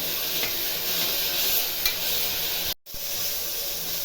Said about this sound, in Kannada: ಇದೊಂದು ಎರಡು ನಿಮಿಷ ಚೆನ್ನಾಗಿ ಫ್ರೈ ಆಗಬೇಕು